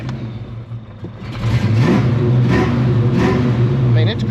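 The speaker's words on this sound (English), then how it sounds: "It does have an exhaust leak because I got the H pipe changed." A car engine with an exhaust leak after an H-pipe change idles, then revs up into a steady, raspy drone, with a crackly, leaky-sounding exhaust note throughout.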